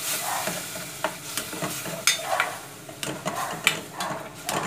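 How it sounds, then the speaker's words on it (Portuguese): Chopped onion browning in a pan, a steady sizzle and fry broken by repeated scraping and stirring knocks of a utensil against the pan, close and moderately loud, with no talking. "Deixa eu dourar aqui essa cebola"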